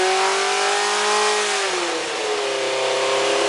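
A Toyota 4A-GE naturally aspirated racing engine, as used in Formula Atlantic, screams at very high rpm near 11,000, holding a loud steady wail that dips briefly and then settles again, with no talking.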